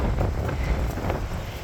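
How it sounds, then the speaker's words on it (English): Wind buffets the microphone outdoors at a garden enclosure under construction, producing a steady, loud low rumble with gusty swells throughout. "Plus it's kind of windy."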